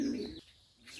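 Pet pigeons coo softly at a village home's backyard coop, a low burbling call fading after a moment, then a faint rustle.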